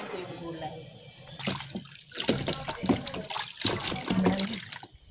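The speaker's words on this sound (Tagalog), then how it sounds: "simayin ko yung gulay doon sa lababo" Tap water runs steadily into a kitchen sink while vegetables are rinsed under it, a close splashing rush with shifting spatter, with a voice talking over it.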